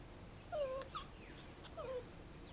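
A small dog whimpers softly nearby, giving two thin, high, falling whines with a short pause between them against a quiet background.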